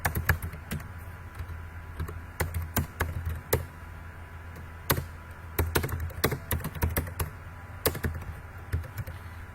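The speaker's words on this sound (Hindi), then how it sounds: "टाइपिंग छोड़ देता हूँ।" Fingers type on a computer keyboard in irregular bursts of crisp, close keystrokes with short pauses between, over a low steady hum and no talking.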